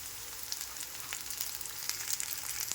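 Washed green peas hit a hot pan and sizzle with a dense, continuous hiss, sprinkled with small crackles and pops, close and steady with no talking.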